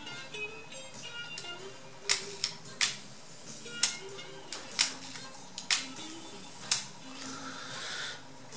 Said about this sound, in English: A little red dot to help you line it up, clicks into place, press the button, turn the lens, comes right off.